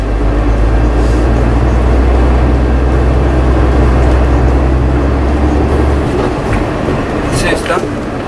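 A Sinotruk Howo T7H 8x4 dump truck with a 440 hp engine runs steadily in fifth gear, giving a loud, continuous low rumble with someone talking over it.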